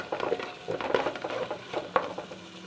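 Masala fries gently in a pan over a low flame for a fish curry, a soft sizzle broken by repeated scraping stirs of a spoon; no talking.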